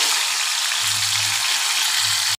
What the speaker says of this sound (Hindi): ये देखें ये लहसन का और प्याज का लगेगा तड़का